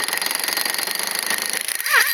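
An Earthquake 1/2-inch impact wrench hammers in reverse on its full setting, a loud, rapid, continuous rattling burst close to the listener for about two seconds.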